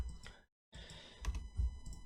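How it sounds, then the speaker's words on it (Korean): Mouse clicks and keyboard presses on a computer while working in SketchUp, a few quiet, close, irregular taps and clicks separated by a brief silent gap. "트리플 클릭해서 G 누르는 거예요"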